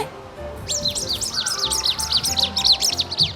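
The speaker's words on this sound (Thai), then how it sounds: "อุ้ยมีเสียงนกด้วย" A rapid, high-pitched electronic toy bird chirping repeats in quick bursts, fairly close, over a low background rumble.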